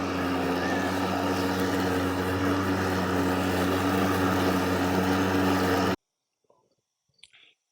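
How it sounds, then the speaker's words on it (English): A push mower runs with a loud, steady engine drone, heard through Denon PerL Pro noise-canceling earbuds, then cuts off sharply, leaving near silence with a few faint clicks. "test number 1 is the push mower"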